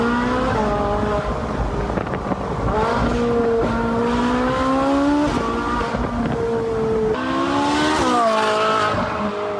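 A repaired, previously wrecked Ferrari 458 convertible with its roof open pulls away, its engine note loud and continuous, climbing in pitch through repeated rising sweeps as it accelerates.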